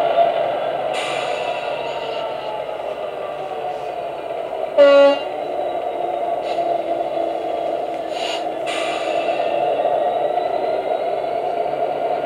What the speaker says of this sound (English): Got a heavy ballast train here.